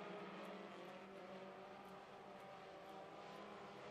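A pack of race cars roaring through turns 3 and 4 of an oval track, a continuous dense engine drone with faint passing swells, steady and fairly distant, with no talking.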